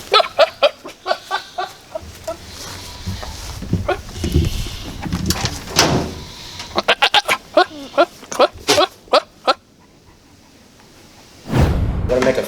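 Goats bleat repeatedly in short, loud bursts, some overlapping, with a lull near the end before a final loud call.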